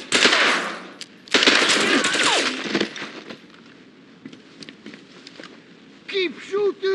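Gunfire in the James Bond 007: Blood Stone video game: loud rapid automatic bursts at the start, then quieter scattered shots, with shouted voices breaking in toward the end.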